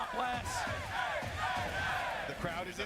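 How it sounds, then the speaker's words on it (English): Crowd roaring and yelling at a fighting game tournament final, a dense, sustained wall of voices with shouts rising and falling throughout, while a commentator talks over it. "The crowd is into it."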